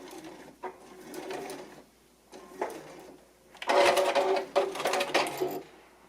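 A sewing machine backstitches a fabric basket seam, its motor whirring in short bursts that swell louder toward the end, with brief quiet gaps between the runs.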